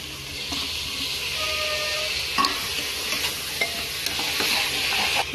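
Green chillies and tomato fry in a pan for a vegetable paneer biryani, with a steady close sizzle broken by scraping stirs and a few clinks of the spoon against the metal, and no voices.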